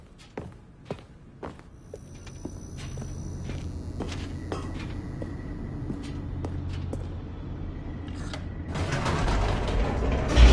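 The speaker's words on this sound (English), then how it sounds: "The elevator raced downward, plummeting towards an unknown fate." Elevator machinery descending in the video game The Stanley Parable: creaking, clanking mechanical sounds with grinding gear-like tones, building into a louder steady rumble and whoosh near the end, with no talking.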